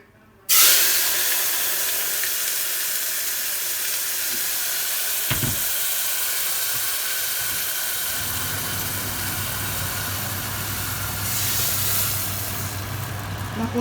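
Juice poured into hot cooking oil in a pan, with onion, pepper and garlic nearby, gives a sudden loud, steady hissing sizzle that holds throughout, with a low hum building toward the end.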